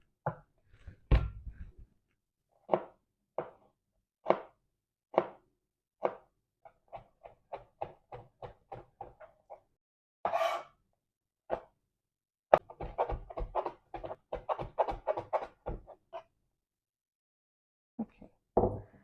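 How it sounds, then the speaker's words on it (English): Garlic is crushed for a minced meat spaghetti, a series of close, dull knocks and thuds that strike in uneven bursts, some quick and clustered, others widely spaced, with no talk. "Let's crush our garlic."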